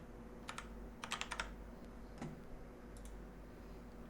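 Keys on a computer keyboard are typed in short bursts, with a few quick clicks, a pause, then scattered keystrokes. The clicks are faint and close against a low steady hum.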